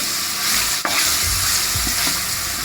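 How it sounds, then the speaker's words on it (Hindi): Carrots, tomatoes and other vegetables fry and get stirred in a pan while cooking chicken macaroni. A steady, close sizzle runs throughout, with a few scraping stirs and one sharp clink. "फाइव मिनट्स तक हम इन चीज़ों को जो है भूनेंगे।"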